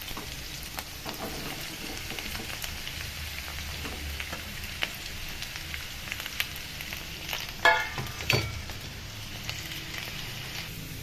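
Kohlrabi and potatoes fry in oil in a pan with a moderate, continuous sizzle, broken by a few sharper crackles and stirring clatters toward the end, with no talking.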